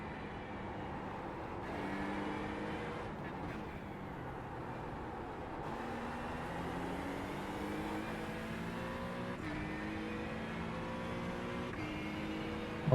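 Acura NSX GT3 EVO race car in iRacing at the Nurburgring Combined circuit, its engine droning steadily through corner exits with rising and falling pitch as it accelerates, lifts and fires out again, continuous and fairly close throughout.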